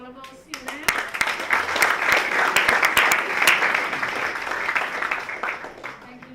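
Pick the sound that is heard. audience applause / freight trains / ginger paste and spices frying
audience applause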